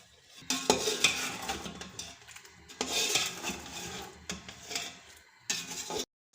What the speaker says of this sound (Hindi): इसे अच्छे से भून लेंगे 5 से 6 मिनट तक मीडियम फ्लेम पर